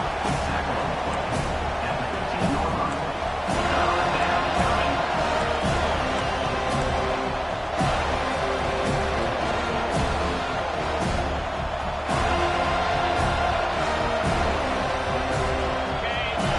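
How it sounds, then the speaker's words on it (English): A large crowd at an American college football game against FSU roars steadily in the background while a commentator talks continuously over the noise. "And here comes the noise. This crowd is trying to inspire this defense to make a big red zone stop"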